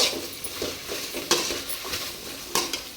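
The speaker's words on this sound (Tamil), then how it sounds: "அந்த வெண்டைக்காவை வந்து இந்த கடாயில் சேர்த்துட்றேன். கடாயில் சேர்த்து நல்லா வந்து வறுத்துக்கலாம்." Okra frying in a kadai, a steady sizzle broken by scraping and clinking stirs of a metal spoon against the pan, with a couple of sharper knocks; close and fairly loud, no talk.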